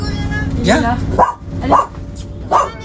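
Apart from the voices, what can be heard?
dog barking and yipping, a shelter dog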